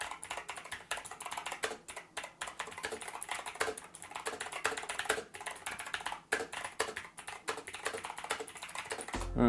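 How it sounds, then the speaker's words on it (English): A Razer mechanical keyboard with green switches clatters under a fast typing run, dense clicky keystrokes close and loud for several seconds, alone without speech. "I'll give you a little type test."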